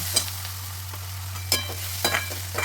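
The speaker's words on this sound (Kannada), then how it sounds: "ಫ್ಲೇಮ್ ಮೀಡಿಯಮ್ ಫ್ಲೇಮ್ ಇಟ್ಕೊಂಡು ಚೆನ್ನಾಗಿ ಮಿಕ್ಸ್ ಮಾಡೋಣ" A mixture with sugar being stirred in a pan over a medium flame, with a few distinct scraping strokes over a soft, steady sizzle and a constant low hum.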